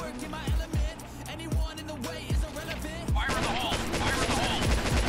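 An HK-416 rifle fires in the online shooter Point Blank, a loud, rapid series of sharp shots in bursts. Game music and effects run underneath.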